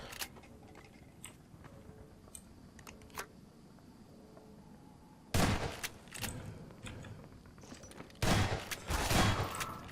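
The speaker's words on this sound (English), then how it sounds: "I'll just use my sniper rifle shotgun to get him" Gunfire from a sniper rifle shotgun in the video game ChasmVille, two loud bursts of shots after a quieter stretch of faint game sounds, with no talking.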